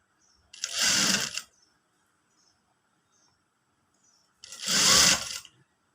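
Sewing machine stitching quarter-inch piping onto a Katori blouse, two separate bursts of close, rapid whirring stitches with a quiet pause between them.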